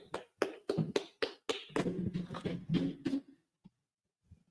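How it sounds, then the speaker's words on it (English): A biblical law class in Fayetteville, North Carolina claps in tight unison, a fast, steady run of loud rhythmic claps lasting about three seconds before stopping abruptly, followed by a few faint knocks. "Clap it up. Clap it up."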